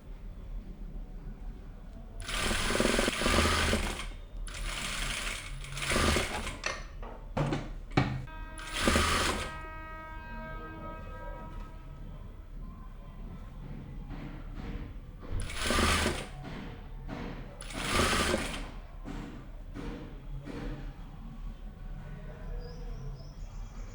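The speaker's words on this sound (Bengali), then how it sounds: "এবারে বাকি সেলাইটা কমপ্লিট করব" A sewing machine stitches a kameez sleeve in loud, rapid bursts of mechanical whirring, separated by short pauses, with faint chirping in the background.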